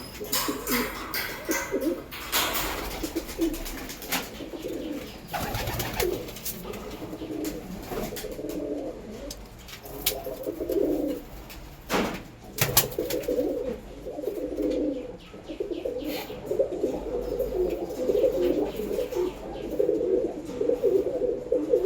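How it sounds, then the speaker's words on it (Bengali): Young pigeons in a breeding loft coo steadily and repeatedly for a long stretch, with low murmuring calls close by and occasional shuffling or wing noises, no talking. "বাচ্চা পায়রাগুলো কী করছে একটু দেখি"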